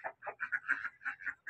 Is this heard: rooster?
yes